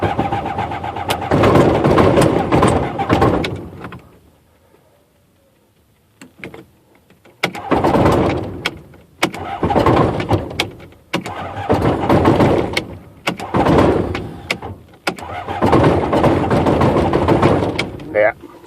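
A Rotax aircraft engine's starter cranks during a hard start with a suspect starter clutch, heard as several loud whirring bursts separated by gaps, close to the microphone, with a voice talking briefly between attempts.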